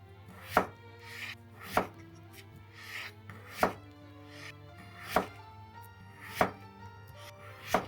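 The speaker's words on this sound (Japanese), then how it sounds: "大根は半分に切り、2ミリほどの厚さの半月切りにします。" A kitchen knife slices daikon radish into thin half-moons about 2 mm thick on a cutting board, giving seven sharp, evenly spaced chopping knocks at a steady, unhurried pace, close and clear with no talking.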